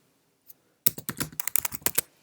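Keys clatter on a Mac keyboard as terminal commands are entered, a quick burst of close, crisp clicks after a short near-silence with one lone tap.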